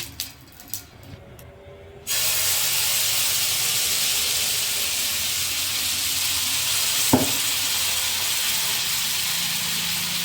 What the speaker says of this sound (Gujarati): તવામાં તેલ લગાવી દેશું